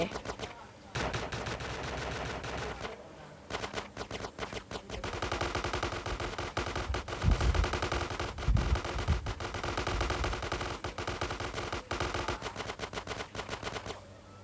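Gunfire in GTA San Andreas, an MP5 among the weapons, with dense rapid bursts of automatic shots and a few short pauses, loud and sustained, over occasional game sounds.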